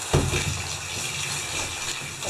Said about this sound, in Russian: Проточной водой будем смывать.